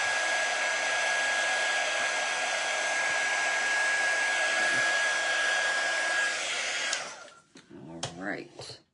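A hair dryer blows steadily on part of a ladies shoe form, a loud continuous whirring roar with a high whine that cuts off near the end, followed by brief faint handling sounds.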